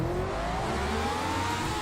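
A McLaren M23 revs at the race start in rFactor 2 on the old pit straight at Classic Silverstone, its loud, close engine note climbing steadily and continuously.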